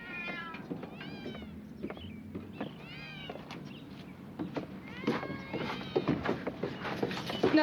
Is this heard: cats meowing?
yes